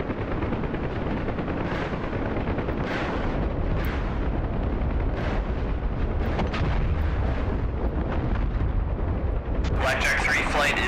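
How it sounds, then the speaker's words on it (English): Rocket strikes from a Huey helicopter slam into a mortar position in a combat video game, a steady roar of explosions and rumbling fire with a helicopter drone beneath, and a sharper crackle near the end. "we've got rockets selected. We are going to hit this mortar position here"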